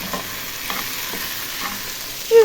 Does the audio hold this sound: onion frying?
yes